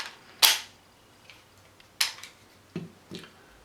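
Sharp metallic clicks come from a pistol's slide and trigger as the trigger is reset: four crisp snaps, close and isolated, in a quiet room.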